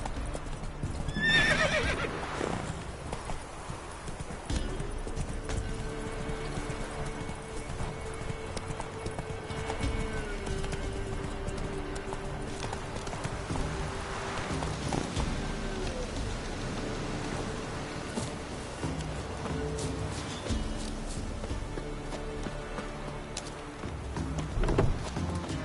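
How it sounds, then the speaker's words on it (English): Horse hooves clip-clop steadily in The Witcher 3 video game, with a whinny near the start, over a continuous rain-like background and a low droning tone. "Whoa there, Roach"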